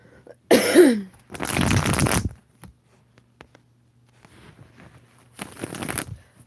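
Tarot cards are shuffled in short papery riffling bursts separated by quiet gaps, three distinct rustling passages, close to the listener with no talking.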